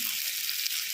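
Onion frying in a pan with pepper and turmeric, a close, even hiss of sizzling oil for a brief moment with light stirring, no voices.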